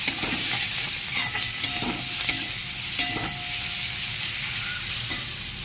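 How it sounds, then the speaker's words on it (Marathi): Fresh coriander stirred into a sizzling Marathi tempering of dry spices, turmeric, homemade masala and coriander powder while cooking tondli bhaji, a steady close fry with a few spoon scrapes and clinks against the pan. "फोडणीमध्ये थोडी कोथिंबीर घालावी"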